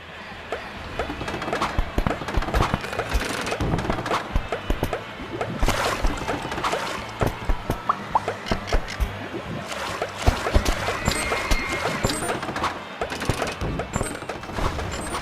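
Rapid pistol shots at a carnival shooting gallery in the PSVR game Carnival Games, sharp cracks firing repeatedly and steadily with clattering target hits and busy fairground background noise throughout.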